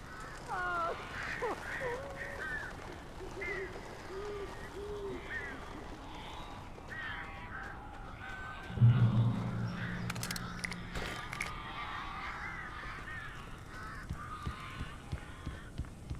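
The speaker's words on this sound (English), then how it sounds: "These birds are weird." Crows cawing in the video game Alan Wake, scattered harsh calls throughout with one louder burst midway, under an ongoing ambient background and occasional speech.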